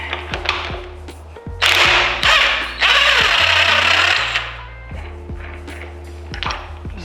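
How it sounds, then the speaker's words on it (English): Impact wrench hammering loose a large crank pulley bolt on the engine block of a C35 Nissan Laurel, two loud sustained rattling bursts with shorter rattles and clanks around them, close by in a workshop. "So I'm gonna use impact, and hopefully it comes off easily without having to use a pulley puller"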